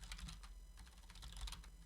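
Quick, light keystrokes on a computer keyboard, a close run of soft clicks in an irregular rhythm over faint background hum, brief and fairly quiet.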